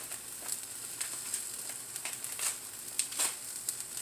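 A burger fries in a pan with a steady, close sizzle, scattered small pops and crackles over the continuous hiss, no voices.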